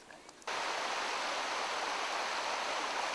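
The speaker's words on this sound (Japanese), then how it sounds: "目を閉じて川のせせらぎを静かに聞いています" Babbling river stream on a forest therapy walking course in Myoko, Niigata: steady, close rushing water that cuts in suddenly after a faint moment and continues as a dense, unbroken wash.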